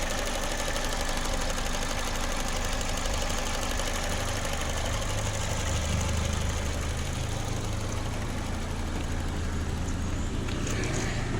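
A car engine idling with a ticking from the throttle body, a dense continuous mechanical drone with a faint rapid tick running beneath it, close and steady, no talk.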